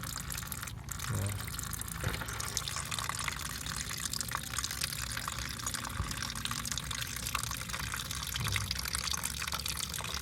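Old, cloudy coolant drains from the radiator of a third-generation Honda CR-V, a steady close-up stream of liquid splashing and trickling under constant wash with a few brief knocks.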